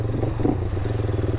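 A Herald Brute 500 single-cylinder motorcycle idles through its aftermarket muffler with a steady, low, thumping exhaust note, close and continuous with no talk.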